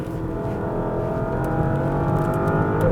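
A Porsche 911 (992) engine revs hard at full throttle and climbs steadily in pitch as it accelerates on a track, loud and close, with a constant droning roar throughout.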